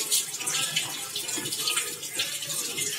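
Running tap water splashes steadily while a country chicken is washed under it in a kitchen sink, a continuous hissing flow with faint clattering and no speech.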